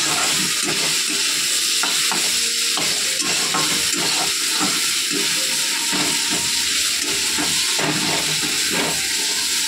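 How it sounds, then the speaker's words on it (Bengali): Potatoes fry in a pan with a loud, steady sizzle and crackle that runs the whole time, with occasional stirring scrapes and no talk. "এই আলুটা সকালে খাবো বলে ভাজা হচ্ছে, সকালে খাওয়ার জন্য।"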